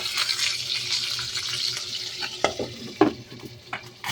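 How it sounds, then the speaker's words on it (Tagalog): Milkfish (bangus) steak fries in a pan with a steady sizzle, broken by several sharp clinks and scrapes of stirring or turning. "Meron po kaming sinasalang dito na pritong bangus"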